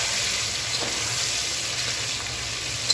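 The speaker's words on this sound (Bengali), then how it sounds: "পেঁয়াজটাও আমি আলুর সাথে বাদামি করে ভেজে নেব।" Chopped onions frying with browned potatoes in a pan for tehari, a steady close sizzle that runs unbroken throughout, with a brief stir near the end.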